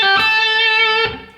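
Electric guitar playing a bent note phrase from the solo, bright distorted sustained tone with rich overtones, a picked attack, another pick near the end, then fading.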